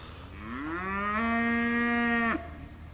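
A single cow on a farm gives one long, loud, drawn-out moo that rises in pitch, holds steady, then cuts off abruptly, with quiet background afterward.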